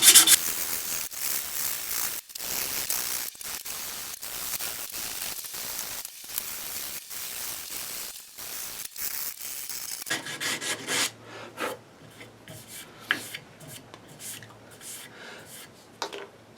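Steady rasping strokes of sandpaper rubbed over a small wood carving, working through successive grits, near and continuous for about ten seconds before the scratching turns lighter and more scattered.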